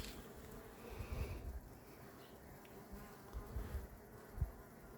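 Honeybees buzz faintly around a hive, a soft steady drone with a few louder passes as bees fly close by.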